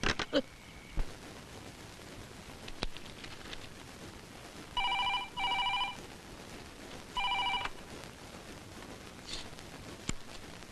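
A telephone rings late at night at a ladies' hostel, giving two double-burst electronic rings a couple of seconds apart. They sound clear but moderate against a quiet room with faint clicks and background hiss.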